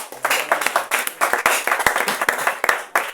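A church congregation claps in a lively, uneven rhythm of sharp, close hand claps that continues steadily, with no talking.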